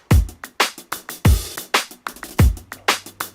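A Dingwall bass grooves with muted dead-note plucks, deep thumps standing in for kick and sharper slaps for snare, grouped in threes and fours, close and punchy with no voices.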